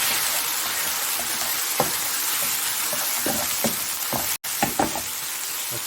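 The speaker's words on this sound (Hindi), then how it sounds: "इसको अच्छी तरह हम भून लेंगे मसाले में" Spices, chilli and paprika frying in a pan with chicken for a homemade chicken tikka burger: a steady close sizzle with occasional stirring scrapes and a brief cut near the end.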